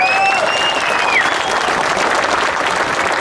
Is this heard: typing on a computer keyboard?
no